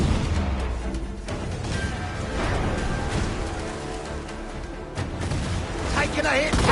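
Ship cannons fire in Assassin's Creed IV Black Flag during a naval battle, a steady barrage of booms and rumbling impacts over dense battle noise, with shouting voices throughout.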